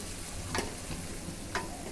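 Taro stolons frying with fish on a stove, a soft continuous sizzle with two brief clicks or scrapes, fairly faint.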